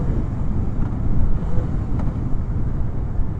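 Cold wind buffeting a motorcycle rider's microphone on the road, a loud steady low rumble of rushing air with no voices.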